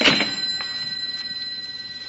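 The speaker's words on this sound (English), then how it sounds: "It sounds like a phone." A telephone bell rings as a sound effect in a 1954 old-time radio drama: a bright, insistent ring that is loudest at the start and then continues as a steadier tone, with no voices.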